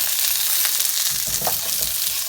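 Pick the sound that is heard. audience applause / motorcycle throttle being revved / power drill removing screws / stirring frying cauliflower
stirring frying cauliflower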